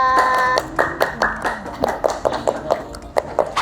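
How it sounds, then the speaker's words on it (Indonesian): A short burst of hand clapping, first a dense patter, then a dozen or so separate claps at an uneven rhythm, fairly close. "beri tepuk tangan semua"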